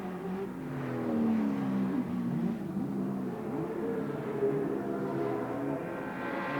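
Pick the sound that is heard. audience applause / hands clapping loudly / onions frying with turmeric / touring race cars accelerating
touring race cars accelerating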